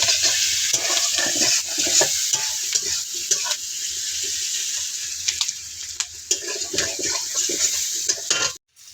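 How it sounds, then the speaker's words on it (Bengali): Onions fry in oil with whole garam masala, a loud constant sizzle under repeated stirring and scraping in the pan, with a sharp clatter just before it cuts off. "দেখুন বন্ধুরা পেঁয়াজটা ভাজা হয়ে যাচ্ছে।"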